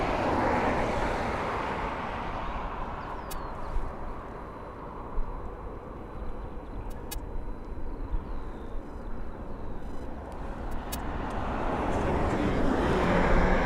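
Boeing 767 aircraft at East Midlands Airport during an evening session, a steady broad engine roar that holds throughout and swells near the end, with people talking faintly over it.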